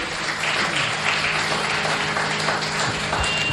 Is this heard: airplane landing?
no